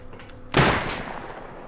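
A single sharp gunshot from a firearm in the survival video game Rust, loud and close, with a short decaying tail and no talk over it.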